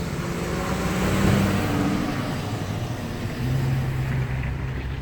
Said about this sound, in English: I live on a gravel road, so that truck's making a lot of noise